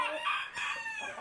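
A Yokohama rooster crows in one long, faint, drawn-out call heard at a distance, with no other sounds over it.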